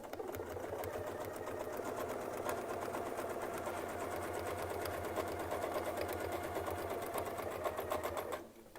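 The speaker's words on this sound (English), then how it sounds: "So when I sew this side right here, that needle should end right where the other side left off." A quilting sewing machine with a Westalee Spin E Fex 14 ruler setup stitches rapidly and steadily at close range, a continuous mechanical whir with fine needle ticks that stops abruptly near the end.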